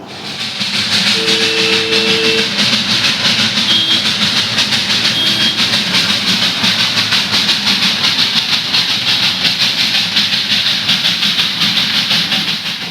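A train on the Darjeeling railway line, heard as a loud, steady rumble and hiss with a rhythmic clatter throughout, close by and continuous with no voices.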